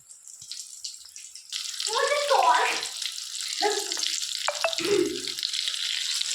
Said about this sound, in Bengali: কোটিং করার পরে আমি কিন্তু ডিমের চপগুলোকে তেলের মধ্যে ছেড়ে দিয়েছি। এবার এটা ভাজা হবে